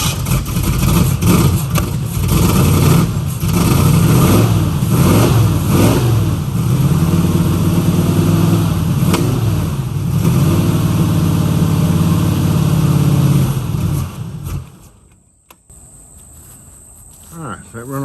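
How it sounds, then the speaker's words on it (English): A 1969 Mustang engine that sat for 15 years runs loud and rough while the last fuel burns out of its carburetor, with uneven pops and sputters, then cuts out near the end, leaving a quiet tail. "that run all the gas out of the carburetor. You hear it's still popping"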